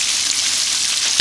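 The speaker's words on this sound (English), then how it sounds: "So we have the chicken thighs frying." Chicken thighs frying in Crisco oil, a dense continuous hiss and crackle of sizzling fat, close and loud, with a brief clatter near the end.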